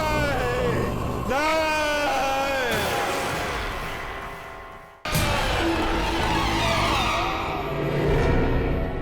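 A doctor's scream from a morgue in the Hindi TV horror series Aahat: loud harmonic cries with rising and falling pitch, cut off near the middle and followed by further strained shouting over a dense, noisy background.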